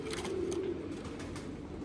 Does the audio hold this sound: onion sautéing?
no